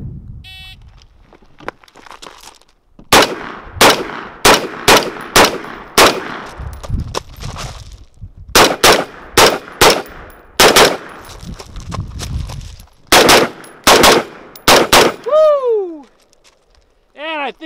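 Rifle shots from a SOPMOD Block II clone ring out loud and close during a shooting drill, fired in quick clusters of two and three with short pauses between groups, followed by metallic pings of steel targets near the end.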